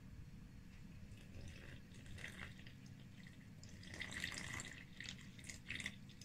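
Water poured into flour in a bowl for a day-one sourdough starter, a faint steady trickle and splash over background hiss, growing slightly louder toward the end.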